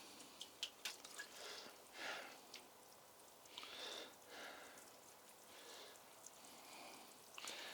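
Water drips lightly onto garden soil just after newly planted tulip bulbs are watered, a faint, sparse patter of separate drops scattered through a quiet outdoor plot.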